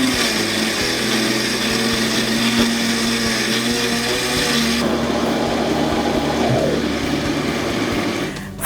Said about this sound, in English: you don't want to fill up the blender, maybe up to here,